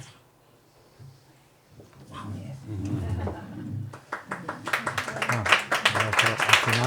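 Audience applause after a poem reading at a book presentation in a bookshop, starting as scattered claps amid murmuring voices and building into dense, sustained clapping from a small crowd.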